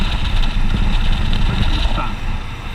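Royal Enfield Himalayan motorcycle engine running steadily with a low, throbbing thump, close and fairly loud against wind noise.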